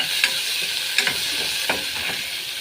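Long green chilies hit hot oil in a pan alongside sardines, giving a steady crackling sizzle with several brief bursts of spattering, close and fairly loud.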